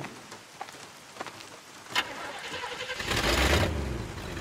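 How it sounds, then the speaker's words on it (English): In the video game Bayonetta, a car engine rumbles to life about two-thirds through, a deep, rising roar swelling over a steady rain-like hiss and scattered light taps. "Engine still purrs nicely."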